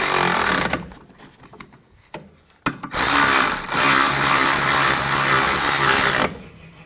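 A power tool drives the caliper bracket bolts on the rear brakes of a 2011-15 Kia Sorento, with a few short loud bursts early on, then one sustained close whirring run of about three seconds.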